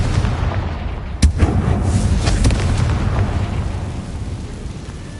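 A Confringo blasting spell explodes in Hogwarts Legacy: one sharp crack lands early, followed by a rumbling burst that slowly fades beneath steady background noise.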